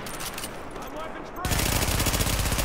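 Sustained automatic gunfire in The Division, a dense rapid rattle that grows louder and more intense partway through, with shouting voices in the fray.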